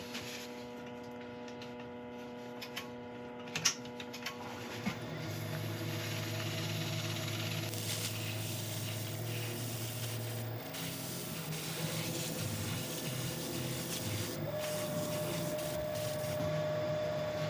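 Wax buffed into turned sequoia redwood spinning on a woodturning lathe, a steady motor hum with rubbing friction that shifts in pitch partway through, continuous and fairly close with no talking.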